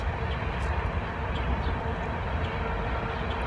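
A train rumbles past close to a home on a Sunday morning, its loud, steady low roar filling the whole stretch without letting up.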